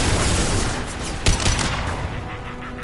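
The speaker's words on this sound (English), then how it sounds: "Firing concussive shot!" Concussive shot fired in a video game: a dense, rumbling blast of noise with a sharp second crack partway through and another burst at the end, loud and close.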